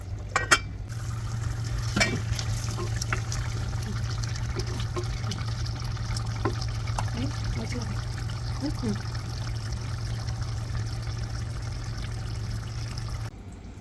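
Kerala-style chemmeen (shrimp) curry with curry leaves and water simmers under a lid, giving a steady low burner hum with scattered soft bubbling pops throughout.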